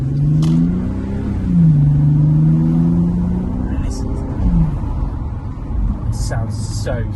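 A Bentley Continental GT engine on the move, heard from inside the car as a loud, steady rumble that swells and dips as it revs, with someone talking over it throughout.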